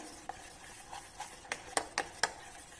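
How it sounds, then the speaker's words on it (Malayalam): Mango pudding mixture thickened with cornflour being stirred in a pan over a medium flame, heard as faint soft scrapes that build into several sharper taps and clicks of the spoon near the end, with no talking. "ഇനി നമുക്ക് കൈ എടുക്കാതെ നമുക്ക് നന്നായിട്ട് ഇളക്കണം കേട്ടോ."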